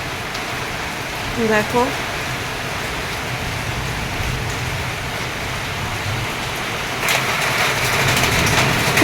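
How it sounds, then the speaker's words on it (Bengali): Steady heavy rain pours down after a hailstorm that stripped leaves across a courtyard, a dense continuous hiss close by, with a voice speaking briefly early on and the downpour swelling louder near the end. "এত পাতা ঝরেছে আর এত এখনো বৃষ্টি হচ্ছে"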